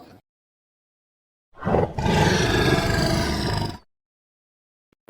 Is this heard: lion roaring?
yes